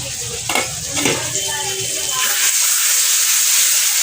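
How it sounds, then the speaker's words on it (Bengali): Spice paste frying in a pan for a dried fish curry, a loud close sizzle and hiss that swells and steadies, with stirring scrapes early on and a voice talking over the start. "রান্না করছি মশলাটা কষছি"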